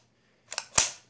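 A magazine is pushed into an airsoft gun, two quick plastic clicks and then a sharper snap as it seats, close and alone against silence.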